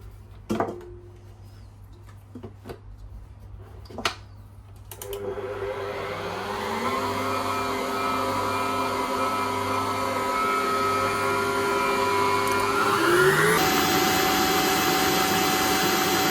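Electric hand mixer beating egg yolks, a steady high whirring drone that starts after a few light clicks and runs continuously, rising in pitch partway through.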